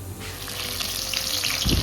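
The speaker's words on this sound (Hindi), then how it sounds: "तो पहले तेल में गया प्याज को हम अच्छी तरह से फ्राई कर लेंगे।" Chopped onion sizzles and crackles in hot mustard oil, a steady close frying hiss with a brief stir-like clatter near the end and no talking.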